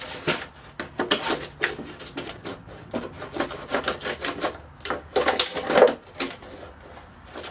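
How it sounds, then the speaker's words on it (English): Scissors or a blade cut around a plastic plant pot in quick rasping bursts, close by and fairly loud, with short pauses between strokes. "now I'm going to cut around this plant, this pot"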